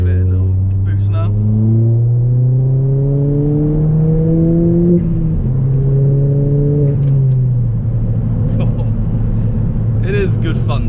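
A stage 2 Ford Fiesta ST180 tuned to 235 bhp accelerates hard under boost, its engine note climbing through rising pulls with a gear change midway and again later, heard from inside the cabin while the driver talks over it.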